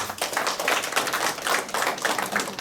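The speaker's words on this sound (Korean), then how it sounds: "박수 부탁드립니다." Audience applause in a lecture hall as writers and poets are introduced, a steady burst of many hands clapping close and dense, lasting throughout without talk.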